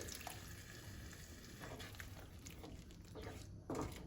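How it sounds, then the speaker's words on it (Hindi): Thick tomato gravy for sev tamatar sabji sizzles in a kadhai after a splash of water is added, a soft continuous hiss and crackle, quiet and close, with a brief louder stir near the end. "थोड़ा पानी ऐड कर देंगे"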